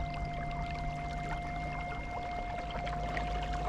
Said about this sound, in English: That nice little bow wave.